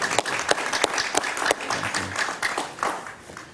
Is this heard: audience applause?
yes